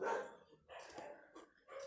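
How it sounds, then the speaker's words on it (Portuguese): Several dogs bark in short bursts, a few separate yaps in quick succession, faint and somewhat distant. "Esses cachorros dos meus vizinhos, né, participando do meu vídeo."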